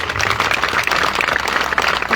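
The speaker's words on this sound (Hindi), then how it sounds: "एक बार जोरदार तालियां इनके लिए" Enthusiastic applause from a crowd at a Hindu mahapanchayat village gathering, honoring the event organizers; dense, steady clapping fills the short stretch without pause.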